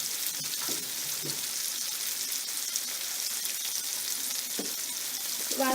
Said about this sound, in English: Fry it in a low flame so that it doesn't get burned.